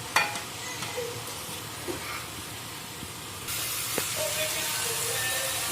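Pointed gourd and previously fried potatoes go into a pan and are stirred, giving a soft sizzle and hiss with a few light utensil clinks. The sizzle grows brighter and steadier partway through, and there is a little faint talk.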